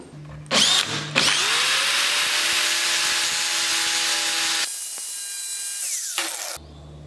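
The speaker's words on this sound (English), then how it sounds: "you can do it with a cordless drill and a grinder" A cordless drill, used while making a template for bolt patterns, buzzes in a couple of short starts, then runs loud and steady for several seconds, drops to a lower, quieter whir and stops. No one speaks.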